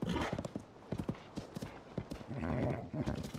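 Horse hooves clip-clopping in the video game Zelda Tears of the Kingdom, a close, quick run of hoof beats with a snort or whinny-like burst partway through.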